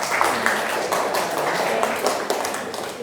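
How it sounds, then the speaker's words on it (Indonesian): Classroom applause after two students finish presenting during an Indonesian-language lesson, a dense steady patter of many hands clapping at once, held at an even level from start to finish with no gaps. "Beri tepuk tangan untuk Mbak Intana dan Mas Regen"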